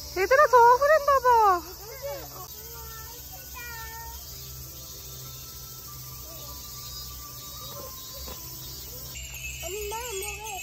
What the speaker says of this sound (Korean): 이거는 매미 소리야.